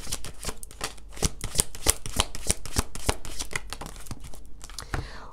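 Tarot cards shuffled for a reading, a rapid, steady riffle of crisp papery slaps and flutters, close and fairly loud, running continuously with no voice over it.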